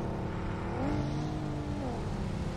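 A vehicle engine in the battle royale game BGMI drones loudly and steadily, rising and falling in pitch as it revs, with no voices over it.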